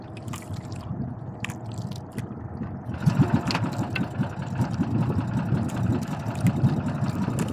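A boat engine runs at a low, steady idle, a mid-pitched putter that grows louder and rougher about halfway through, close by and alone with no voices.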